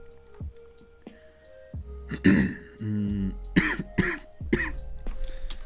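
Several harsh coughs and throat clearing from a close voice, in bursts separated by short pauses, with no talking.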